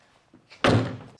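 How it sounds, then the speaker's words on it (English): A vehicle's rear door, fitted with an OX rear door carrier, swings shut with a single solid slam after a few faint rustles, close and loud, no voices. "And close the door and they will stay in place."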